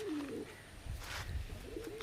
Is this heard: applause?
no